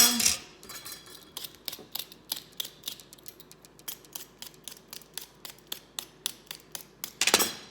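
A knife chops butternut squash into cubes on a cutting board, a rapid, regular series of crisp close-up chops and taps, about two or three per second, with louder clattering at the start and finish and no talk.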